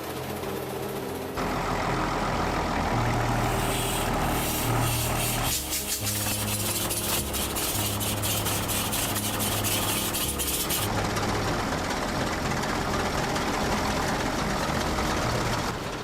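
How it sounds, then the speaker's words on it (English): A massive Rumely OilPull tractor with a horizontal engine and exposed cast iron gear train runs loudly and close, a heavy low throb carrying metallic knocking impacts that grows denser midway, with no talk. "Each piston stroke hammers force directly into the crankshaft and cast iron gear train, producing deafening metallic impacts."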